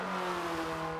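Hyundai Veloster engine in Forza 7 at Road Atlanta, revving with a steady, loud tonal drone that holds through the whole short stretch.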